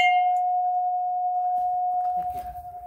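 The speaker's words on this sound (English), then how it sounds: "Look at that bell, guys. I was almost about to run up and swing on it. I gotta ring it." An old bell at an abandoned site is struck once, and a single clear tone rings out and sustains steadily for nearly three seconds while faint rustling and movement noise build beneath it.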